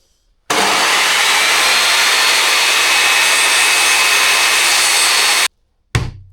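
A cheap circular saw cuts through wood during a DIY bathroom renovation, a loud steady whine lasting about five seconds before stopping abruptly, followed by a brief clatter.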